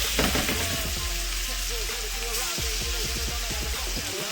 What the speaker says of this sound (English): take those 1/2 cup of onions, throw it into your bacon grease